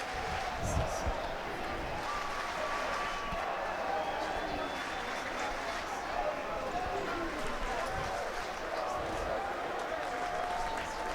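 Gallery crowd at the final round of the 2017 Travelers Championship golf tournament applauds steadily, a dense wash of clapping that carries on throughout with commentators talking over it.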